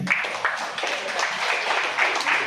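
Audience applause at a children's day felicitation ceremony honouring young achievers, held by Malabar Gold and Diamonds in Udupi: a brief, dense burst of clapping from a crowd, fairly loud and continuous.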